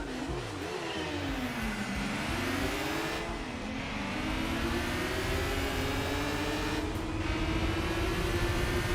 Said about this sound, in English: the car sounds different because of that racing exhaust and stuff